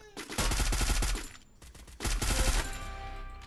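Rapid automatic gunfire from a player shooting down from a house in the mobile battle-royale game Free Fire, loud close bursts in two main volleys with a brief gap between them.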